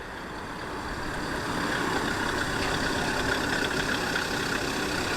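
A Land Rover engine idles nearby, a steady rough rumble that swells slightly and holds even, with no voices over it.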